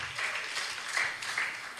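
An audience at a graduation ceremony in Kisumu claps in steady, moderately loud applause from a crowd, with no voices over it.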